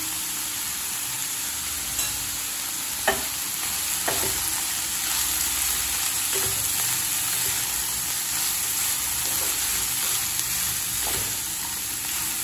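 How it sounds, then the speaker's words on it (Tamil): Shredded cabbage with salt sautéing in a pan, a steady soft sizzle and hiss with occasional light stirring scrapes and taps, close and moderately quiet, with no talking. "நல்லா வதக்கிக்கலாம்."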